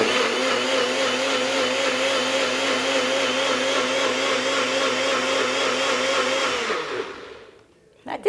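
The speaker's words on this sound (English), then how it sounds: "So we're just going to put this in the blender and blend our sauce." A kitchen blender whirs steadily for several seconds, blending a goat cheese sauce, loud and continuous before winding down and stopping near the end.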